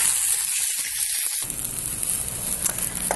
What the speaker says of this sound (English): I'm just going to take our fillet, flesh side down, and then that's going to cook about 3 to 4 minutes on each side